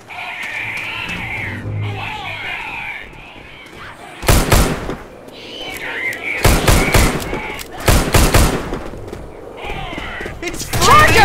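Gunfire in the Left 4 Dead 2 video game, several loud bursts of rapid shots in separate volleys, with game voices and shouting between them.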